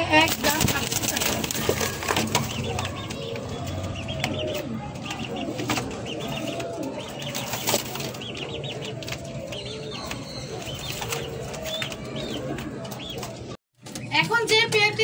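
Birds coo and cluck close by throughout, with a racing pigeon breeding pair among them, over a steady murmur of birds, a brief dropout, then more bird calls.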